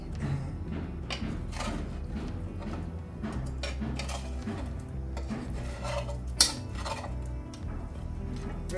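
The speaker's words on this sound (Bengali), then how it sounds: "এবার আমি চিকেনগুলো এর মধ্যে দিয়ে দেবো। আগে আমি লেগ পিসটা আস্তে করে দিয়ে দিই।" Chicken leg pieces are laid one by one into a pan of butter chicken gravy, making soft clinks, scrapes and wet shuffling sounds close by, with a single sharper knock partway through.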